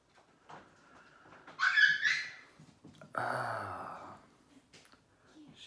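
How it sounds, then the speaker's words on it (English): A dog squeals after being stepped on: a short, high-pitched yelp followed by a longer whining cry, fairly faint and close in a quiet room, with soft breathing and small sounds around it. "She just stepped on one of our dogs. You could tell, just squealed."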